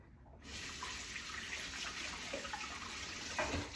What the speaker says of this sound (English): I'm gonna rinse off the hands